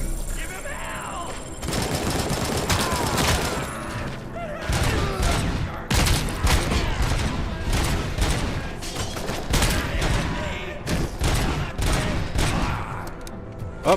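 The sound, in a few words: gunfire in a video game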